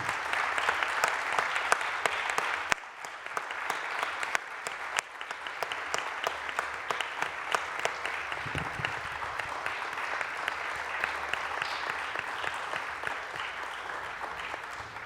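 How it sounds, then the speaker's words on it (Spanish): An audience breaks into sustained applause honouring human rights defenders in Colombia, a dense, steady wash of clapping from a large crowd lasting several seconds. "Pido que les demos un aplauso de reconocimiento a su labor."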